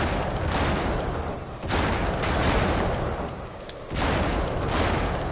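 Sustained, loud gunfire from the video game Uncharted 3, a dense continuous fusillade that breaks off briefly twice before resuming, with no talk over it.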